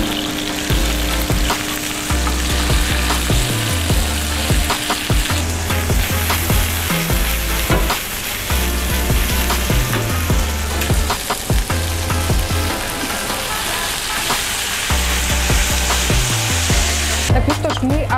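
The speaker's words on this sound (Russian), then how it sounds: "Обжарили курицу в соевом соусе." Loud, continuous frying sizzle of chicken strips in soy sauce close by, with rhythmic scraping and stirring against the pan.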